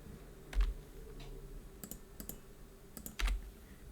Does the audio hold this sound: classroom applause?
no